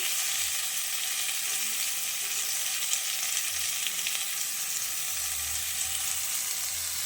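Papaya frying lightly in a pan with a pinch of salt, giving a steady, soft sizzle and crackle throughout with a faint low hum beneath and no talking.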